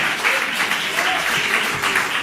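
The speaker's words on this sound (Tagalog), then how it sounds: "Palakpak, mga minamahal." A church congregation applauds in a steady, dense wash of clapping that carries on unbroken, with a voice faintly audible underneath.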